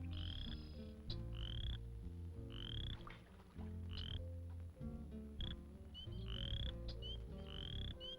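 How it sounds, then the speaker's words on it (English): A spring peeper and a chorus frog call for mates, rising peeps repeating about once a second over a thick, layered frog chorus, clear but at modest volume with no voices. "A spring peeper and a chorus frog call for mates."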